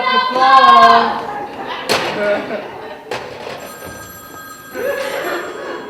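A telephone rings loudly in a stage play, its bright trilling bell dominating before giving way to thumps and stage noise, with actors' voices heard around it.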